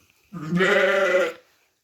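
A single loud, close sheep bleat in a barn with lambs, drawn out for about a second, with silence before and after.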